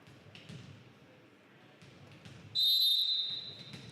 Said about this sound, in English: And there's a whistle, and we will get underway.